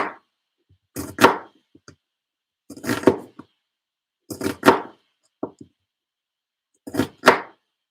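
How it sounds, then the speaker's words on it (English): Meat is chopped on a cutting board in a home kitchen, with heavy knife strikes landing in paired thuds at regular intervals, close and fairly loud, with no talking. "let's get chopping"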